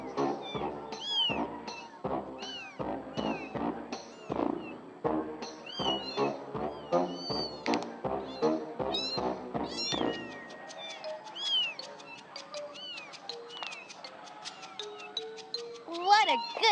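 Repeated short cat meows from the video game Amanda the Adventurer 2 come in a rapid, regular series, followed by softer scattered meows over a quiet musical background.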